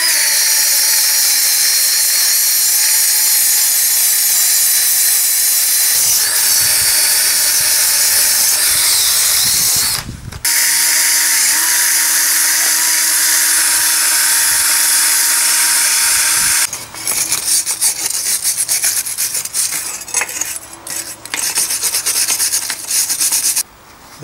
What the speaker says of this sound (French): Je vais donner un coup de brosse métallique sur chacune des lames pour retirer la rouille.